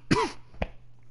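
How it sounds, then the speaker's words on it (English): A single person with a cold gives one harsh cough and then a shorter second cough a moment later, close and fairly quiet, with no talking around it. "Excuse me for coughing."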